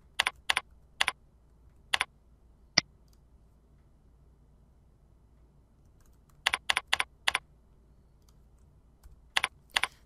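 Input parameters are typed on a computer keyboard for a spreadsheet table. Short, crisp bursts of key clicks sound close and alone over near silence: a few scattered strokes, a long pause, then a quick cluster.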